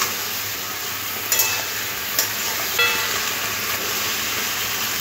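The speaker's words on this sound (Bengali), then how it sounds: "একসাথে মশলার সাথে ভালো করে সবজিটা কষে নেব।" Mixed vegetables sauté with spices for shukto, a steady hiss of frying filling the clip, broken by a few faint clinks of a spoon against the pan, close and with no talking.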